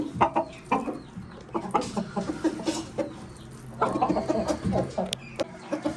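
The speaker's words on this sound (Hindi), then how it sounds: "मैं जल्दी से ये मुर्गों को दाना देता हूँ।" Chickens cluck steadily at close range while being fed grain and soaked roti, with overlapping calls and the odd louder squawk from the flock.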